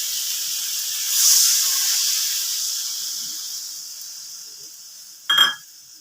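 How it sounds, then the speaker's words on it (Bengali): Water poured into hot spiced oil for a Bengali fish curry gives a loud burst of hissing that swells, then slowly fades into a steady quieter hiss, followed by a brief sharp clatter near the end. "এবার আমি 1 বাটি জল দিয়ে দিচ্ছি ঝোল হিসাবে।"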